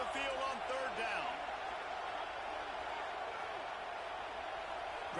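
A steady roar of a home stadium crowd in a Madden football game, cheering on a third-down defensive play, with a commentator's voice briefly over the wash of noise.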